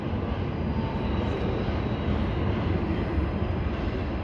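Train passing through the Spiral Cut, a steady heavy low rumble and rolling roar of railcars close by, continuous and unbroken for the whole stretch.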